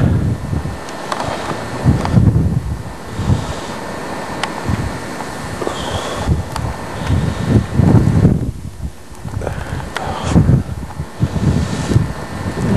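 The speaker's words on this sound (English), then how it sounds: "You can hear the wind whipping through here, but that's blowing pretty good." Strong wind gusts whip down a small town's main street during a lake effect snow storm, a loud, continuous roaring rush of air that swells and eases, close to the microphone and buffeting it.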